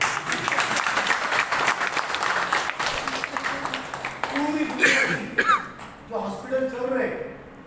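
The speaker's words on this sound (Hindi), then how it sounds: "वेल त्यांच्यासाठी जोरदार टाळ्या" Audience applause rises at a health lecture in Khopoli after someone answers a question, a dense steady clatter of many hands that thins out with scattered claps, coughs and a few chuckles toward the end.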